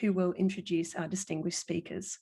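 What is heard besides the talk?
No everyday noise stands out behind the speech.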